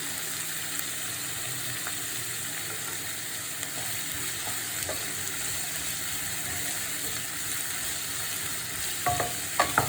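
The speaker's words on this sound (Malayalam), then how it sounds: "സവാള ഏകദേശം വഴണ്ടി വന്നിട്ടുണ്ട് കേട്ടോ" Sliced onion with salt cooking in a pan: a continuous even hiss of frying with faint stirring, and a few light clinks of the utensil near the end, no speech.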